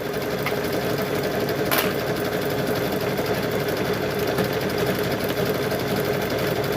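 A sewing machine runs steadily while binding the edge of a quilt, giving a continuous close, even mechanical hum with no pauses and no voices.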